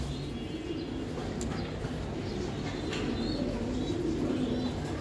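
Giribaz racing pigeons, a high-flying pair, give soft, continuous low cooing close by, with brief faint chirps and a hint of wing flutter.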